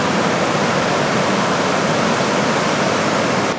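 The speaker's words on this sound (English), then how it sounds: "I love the white water." Whitewater rapids at Ragged Chutes on Canada's Mississippi River give a loud, steady, broadband roar of rushing water. It is close and unbroken throughout, with no other sounds.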